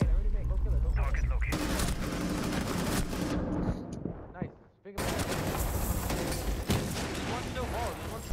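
Loud bursts of automatic gunfire crackle through a console shooter match, with voices talking over the shots and a brief lull midway before the firing resumes.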